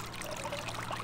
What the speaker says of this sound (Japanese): 雪解け水の音とともに爽やかな風に包まれます。